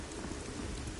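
Steady, dense rain with a storm rumble underneath in the dark fantasy game Lords of the Fallen, a constant close wash of falling water with no pauses and no voices.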